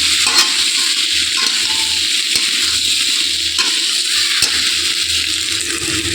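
Raw plantain sautéing in oil in a pan, a steady close sizzle and frying crackle throughout, with occasional soft taps of a spoon against the pan.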